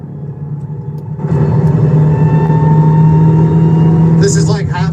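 A car engine in the video game Jailbreak, Roblox-style, drones at half throttle, rising from a softer idle into a steady loud hum, with a voice speaking briefly near the end.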